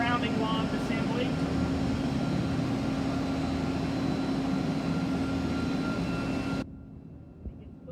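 A helicopter hovers over a cutter's deck during in-flight refueling, a loud constant rotor and engine roar with a steady drone, then it drops abruptly and lingers more faintly.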